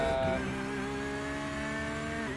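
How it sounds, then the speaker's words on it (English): A race car engine in an endurance racing video game during practice at Daytona holds a loud, sustained, buzzing tone whose pitch drops slightly, with no talk over it. "You can just hear the difference in engine tone."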